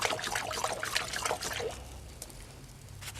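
Fan brush being washed and sloshed in a can of paint thinner, a busy splashing, dribbling liquid churn that fades after a second and a half into quieter drips.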